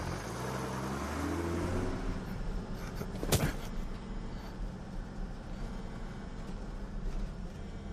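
A school bus engine drones steadily on the road, a low continuous rumble with a brief rise in revs early on and a sharp passing sound midway, no voices over it.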